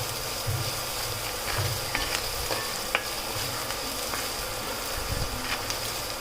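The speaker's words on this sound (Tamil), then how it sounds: "இப்போ எல்லாத்தையும் சேர்த்து நல்லா வதக்கிக்கலாம் ஃப்ரெண்ட்ஸ்" Chilli, pepper and salt sauté in a hot pan as the base for a shark fish curry, giving a steady, soft sizzle and frying crackle with occasional stirring scrapes and no talking.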